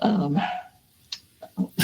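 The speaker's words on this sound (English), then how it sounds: "here, my puppy dog" A puppy dog gives a loud bark followed by a short whimpering tail, then a pause and a few quicker, softer yips and snuffles close by.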